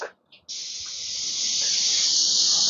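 A paint spray gun coats a Shaker style door, giving two short sputters and then a steady, loud, continuous hiss of spray that builds slightly and holds to the end.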